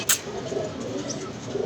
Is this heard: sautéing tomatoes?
no